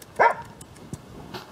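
A Dalmatian mix dog gives a single short, fairly close bark, followed by a few faint yips and small sounds in a quiet space.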